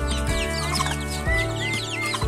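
Breeder hen and rooster, parent stock kept on a backyard turkey farm, clucking continuously up close, with busy chirping from other birds layered over a steady low farm hum.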